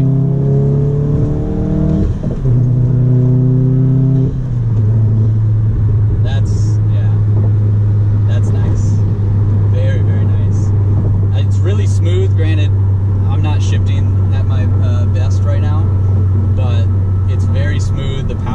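A Volkswagen Golf R or GTI Stage 2 engine hums steadily at a low drone as the driver lets off the gas, after a few gear-like pitch steps, with wind and road noise and occasional clicks throughout.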